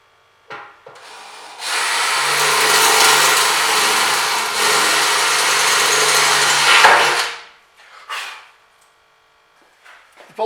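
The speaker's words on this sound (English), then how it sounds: "I'm now going to drill some pilot holes through into the deformation panel" A power drill bores pilot holes through the bumper into the deformation panel of a 1973 VW campervan. A few short bursts lead into about five seconds of loud, steady grinding, followed by brief scrapes and knocks.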